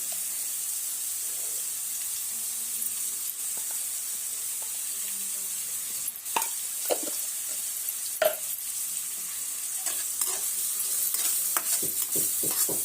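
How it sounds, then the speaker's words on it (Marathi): Onion sautés lightly with turmeric in a pan for karela sabji, a faint, steady sizzle with occasional spoon scrapes and clinks growing more frequent toward the end, close but quiet. "कांदा पूर्णपणे भाजायचा नाही फक्त हलका परतून घ्यायचा आहे त्यात थोडे हळद घालून घ्यायचं आपल्याला"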